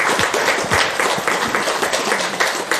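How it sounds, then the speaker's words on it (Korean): Audience applause at a Buddha's Birthday Buddhist gathering, a modest crowd clapping at a brisk, even rhythm for a few seconds, fairly close and unaccompanied by speech. "박수 다 같이 쳐줄까 그럼?"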